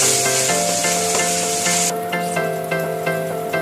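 Onion masala sizzles steadily as it is roasted in a pan for a dhaba-style egg and peas curry, a constant close frying hiss with faint stirring scrapes and no voices.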